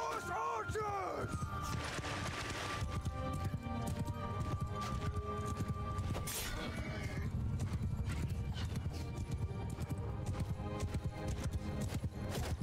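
Horses gallop in a steady rush of hoofbeats, with a neigh near the start and crowd-like shouting mixed in, sounding like game audio from Mount & Blade II: Bannerlord.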